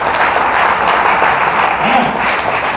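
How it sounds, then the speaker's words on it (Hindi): Seminar audience clapping together, a dense steady burst of applause filling the hall from start to end with no voices on top. "थोड़ी ताली वाली मर्दों वाली चाहिए सर"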